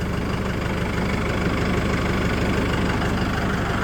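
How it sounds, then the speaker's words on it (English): A 2025 Mahindra 4550 tractor engine idles steadily close by, a continuous low diesel rumble with an even rhythmic throb that holds constant and alone throughout. "This motor's got way more power than this tractor needs, I think."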